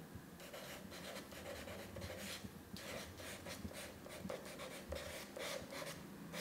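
A pencil writes on paper during a drawing lesson, a soft continuous scratching and rubbing close to the microphone, steady with small pauses between strokes.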